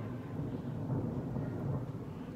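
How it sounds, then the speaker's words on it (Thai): Distant thunder rolling over a small home garden during dry weather, a faint low continuous rumble throughout with no talk. "ฟ้าร้อง"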